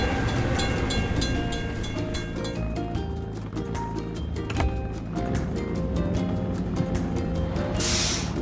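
A video game train rumbles past a railroad crossing with a steady stream of rhythmic clacking, fairly loud throughout, ending in a burst of hissing noise.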